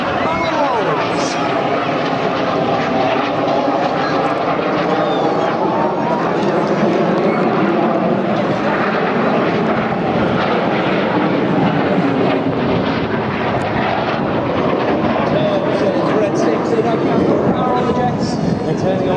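Red Arrows display jets fly over at the Clacton-on-Sea air show, producing a loud, continuous roaring rush that swells and fades slightly as they pass. Voices are mixed faintly beneath the engine noise.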